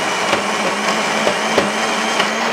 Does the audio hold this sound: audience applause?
no